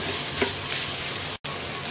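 Ingredients for chicken fried rice fry in a pan with a dense, even sizzle, one small tap early and a brief cut to silence before the hiss resumes.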